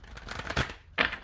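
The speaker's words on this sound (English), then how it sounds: "I'm going to do some shuffling here." Tarot cards are shuffled in a few quick riffling bursts, close and fairly soft, with a sharper final flick near the end.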